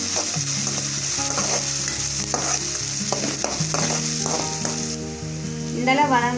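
Onions fry with salt in a pan for a Tamil tomato gravy and are stirred steadily, giving a continuous close sizzle broken by repeated scraping strokes and clatter, with no talking.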